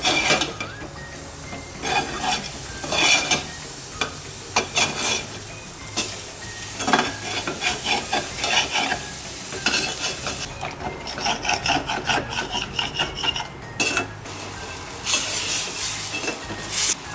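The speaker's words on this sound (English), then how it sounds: "I'm gonna add my mushrooms here." Oyster mushrooms torn into small pieces sizzle in a pan while a utensil stirs them, loud repeated scraping and clattering against the pan over a constant frying hiss, with no talking.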